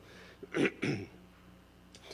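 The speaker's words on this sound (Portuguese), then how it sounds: "Toda vez que ministro de manhã tem essa dificuldade com o pigarro" Two rough, close throat-clearing bursts in quick succession, followed by quiet room tone with a faint breath near the end.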